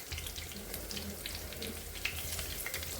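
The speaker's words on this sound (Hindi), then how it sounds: "और इसको उलट पुलट करते हुए हम ब्राउन होने तक के इसको फ्राई कर लेंगे।" Bari, lentil dumplings, sizzle and crackle steadily in hot oil in a home kitchen as they are turned to brown, a soft continuous frying hiss close by.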